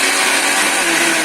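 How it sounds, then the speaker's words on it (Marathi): A mixer grinder whirs loudly and steadily as it churns thick fresh cream with no water added, a continuous motor drone with no talking over it. "आता मिक्सरला आता हे फिरवून घ्यायचं आहे."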